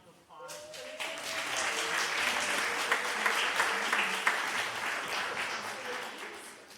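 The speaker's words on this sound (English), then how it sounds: "Can we give a round of applause for the kids?" An audience applauds children who helped build a space at an intergenerational service event, steady clapping from a crowd that swells quickly after a brief speaking voice and holds at a sustained level.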